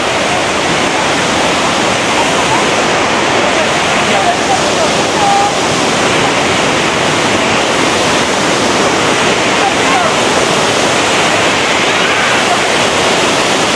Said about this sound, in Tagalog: Meron din dito yung isa waterfall.